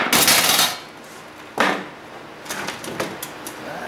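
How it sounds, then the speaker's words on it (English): An air chisel strikes desktop PC scrap in loud bursts: one long rattling blast at the start, a second sharp burst midway, then several shorter clattering hits toward the end. "I've got my air chisel set up"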